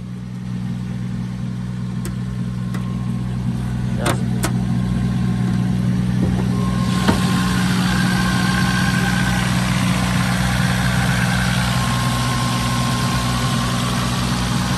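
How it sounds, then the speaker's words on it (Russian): A BMW E36 with a 1.5 engine idles smoothly and steadily at close range, a constant low hum with a brief click partway through and no talking. "Мотор работает ровно."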